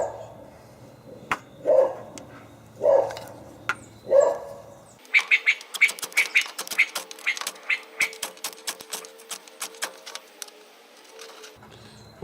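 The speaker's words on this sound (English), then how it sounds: "it figures the dog will want to bark" A dog barks outdoors, first three spaced deep woofs, then a quick run of sharper, higher yips and barks repeating irregularly for several seconds, fairly close and alone.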